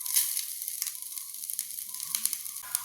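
Grated coconut roasting in a pan for a Nethili anchovy fish kuzhambu gives a steady, soft crackling sizzle with a few brief sharper pops, heard alone at moderate level.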